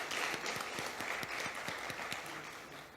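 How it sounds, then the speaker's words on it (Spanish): A conference audience gives steady applause for the panel and speakers at a roads association session, the clapping fairly distant, even and fading slightly toward the end. "Pues les pido un cordial aplauso para la mesa y los ponentes."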